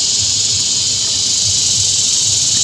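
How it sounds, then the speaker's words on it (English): Cicadas drone outdoors in a loud, unbroken high-pitched buzz that holds steady throughout, with faint low thumps underneath. "Sorry about the cicadas in the background"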